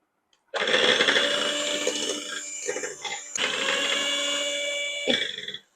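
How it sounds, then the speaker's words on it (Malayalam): An electric hand beater mixing vanilla sponge cake batter whirs loudly for several seconds, its motor pitch dipping briefly midway, then switches off abruptly. "നമ്മൾ ഒന്ന് ഓൺ ചെയ്യാം ബീറ്റർ"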